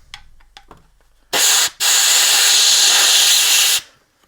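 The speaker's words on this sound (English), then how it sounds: "I'm gonna spray that up. I'm gonna blow it out without knocking over the camera." A loud, steady hiss of aerosol spray bursts out after a few light clicks, pauses briefly, then sprays continuously for about two seconds, cleaning a brake caliper slide bracket.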